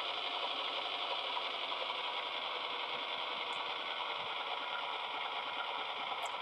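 A model train locomotive runs smoothly on its track, giving a quiet, even motor whir and hum with no rubbing or rattling, steady from start to finish.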